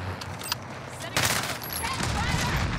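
Gunfire in Call of Duty Warzone erupts as a dense burst of rapid shots from several weapons, loud and close, after a few scattered earlier shots.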